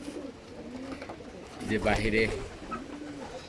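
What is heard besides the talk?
male racing pigeons cooing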